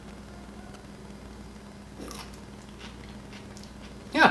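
Someone bites into a crunchy watermelon radish seed pod, a faint soft crunch midway and then a louder, sharper crisp bite right at the end, over quiet room tone with no talking.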